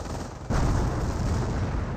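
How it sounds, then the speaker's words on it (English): A decoy artillery barrage lands in a Company of Heroes match, a sudden booming impact followed by a sustained rumbling roar of shellfire. "It was a decoy barrage."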